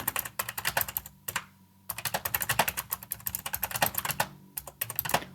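Someone types on a computer keyboard in quick, uneven bursts of close clicking keystrokes with short pauses between runs, clear and alone with no talking.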